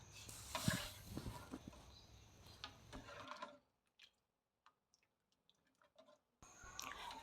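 Cooked sambar ingredients are mixed in a pot with a spoon, giving soft scraping and sizzling stirs for a few seconds, then a pause of faint ticks before the stirring resumes.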